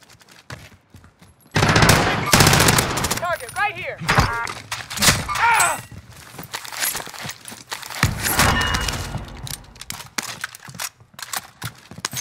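Bursts of gunfire in the battle royale shooter Call of Duty: Warzone Rebirth Resurgence, loud rapid volleys and scattered shots spread through the stretch with footsteps and game voice lines between them.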